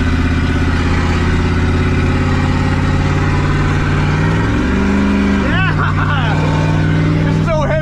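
A 7.3 IDI diesel engine in an old garbage truck roars loud and steady close by, its pitch rising and falling as it revs, while people shout over it toward the end.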